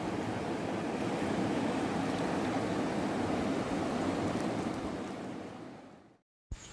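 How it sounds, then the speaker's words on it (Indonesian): Swift river water rushes in a loud, steady broadband roar close by, holding constant for several seconds before cutting out briefly near the end. "Sungainya terlalu deras ya"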